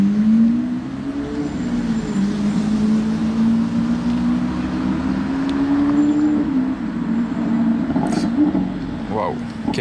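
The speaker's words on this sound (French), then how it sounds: "On reconnaît bien le V12 bien lourd des Aventador." Deep, heavy V12 of a Lamborghini Aventador driving past: a steady, loud low engine drone with a slowly shifting pitch that holds throughout, with a voice talking over it.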